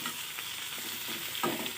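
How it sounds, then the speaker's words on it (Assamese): Bitter gourd with chillies frying in a pan over a low flame, a soft steady sizzle with a few light stirring scrapes near the end. "একেবাৰে কম জুইত বনাইছোঁ তিতা কেৰেলাখিনি"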